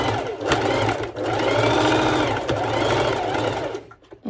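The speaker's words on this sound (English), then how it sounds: "My sewing machine is a little fussy today" Loud, rapid mechanical whirring of a sewing machine stitching in bursts, with brief pauses and restarts, close by.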